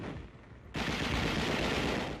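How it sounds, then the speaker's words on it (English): Heavy automatic machine gun fire from Battle of Okinawa combat footage erupts suddenly after a quiet moment and continues as a loud, dense, unbroken burst. "Heavy automatic fire brings down the fleeing Japs."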